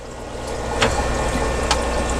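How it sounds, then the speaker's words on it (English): Water runs steadily from the sump of a home fish room, a continuous close rushing flow with a couple of brief splashy surges, no speech over it. "So we will turn off the water here."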